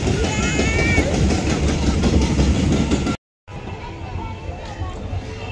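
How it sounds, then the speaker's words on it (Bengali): A toy train at Nicco Park amusement park rumbles along amid busy crowd babble, with a steady rolling clatter that cuts out briefly before resuming; voices are heard throughout. "টয় ট্রেনে উঠতে হবে এবারে।"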